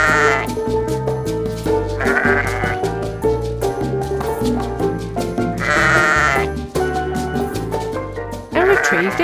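A sheep bleats repeatedly in loud bursts over steady background music, several calls spaced a couple of seconds apart.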